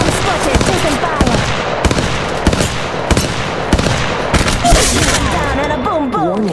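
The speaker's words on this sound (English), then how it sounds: "Yeah, getting shot at. Firing. Shots fired." Rapid bursts of gunfire from the Apex Legends Mobile video game, with repeated sharp shots and machine-gun volleys and occasional booms, loud and dense throughout, layered with game sound effects.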